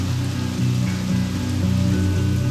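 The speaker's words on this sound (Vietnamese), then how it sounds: "Chờ lát hết mưa rồi đi tiếp." Steady rain falls outside a shelter where people wait for a downpour to pass in a Vietnamese drama, a continuous dense patter over a low hum, with no voices.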